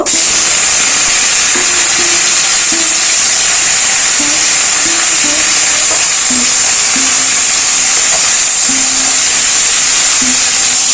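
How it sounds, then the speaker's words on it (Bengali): Chopped tomato sizzling loudly in hot oil with fried bay leaf and dried chilli, a harsh constant hiss close up, with a few faint clicks and no voices. "তেজপাতা শুকনো লঙ্কা ভাজা হয়ে গেছে এর মধ্যে কেটে রাখা একটা টমেটো দেব"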